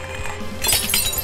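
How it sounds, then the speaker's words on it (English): Glass shatters in the video game I am Bread, a bright burst of breaking and tinkling shards after a brief lower-level moment, loud and close. "Smash more glass."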